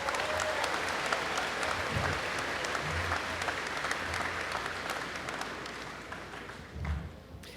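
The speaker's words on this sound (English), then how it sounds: "So round of applause for Scout and everyone up here." Audience applause at a Pathfinder Tech graduation ceremony, a steady wash of many hands clapping throughout that fades slightly toward the end, with a brief low thump near the close.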